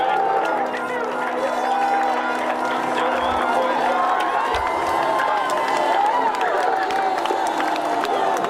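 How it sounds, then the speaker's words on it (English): Large crowd at the America's Cup Village roaring and cheering as Team New Zealand wins, a dense continuous wall of voices with shouts on top, loud and sustained throughout. "What you're hearing is the sound of the crowd going absolutely nuts down there"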